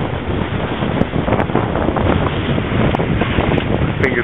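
A taxi fords a river in the Gobi Desert during the Mongol Rally, with heavy wind buffeting the microphone and rushing, splashing water roaring steadily throughout, loud and close.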